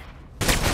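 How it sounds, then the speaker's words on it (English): Gunfire from a weapon in the video game Alpha Protocol, a sudden loud burst of rapid shots cutting in after a quieter moment. "Jesus Christ, this gun sucks ass."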